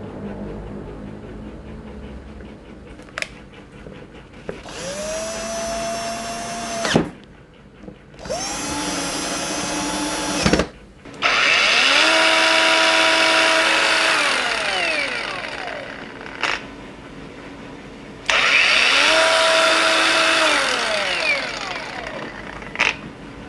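A Xenon CDAG1845 cordless angle grinder spins up in four separate bursts, each a loud, high whine that rises and then falls as it coasts down, with short quiet gaps and small clicks between runs.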